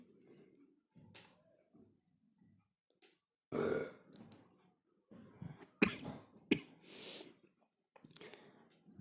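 Several harsh coughs, close and loud, with rough throaty bursts and breathing in between, some quiet murmuring earlier.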